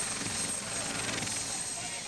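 A helicopter arrives at a gathering in a Garifuna village in Honduras, its steady whirring rotor noise continuous and fairly loud, with voices faintly mixed beneath.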